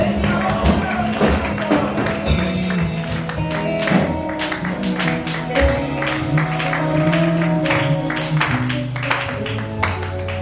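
A church congregation at a seminar closing service clapping together, a dense, continuous patter of hands with rhythmic thumps and a musical drone beneath, loud and sustained throughout.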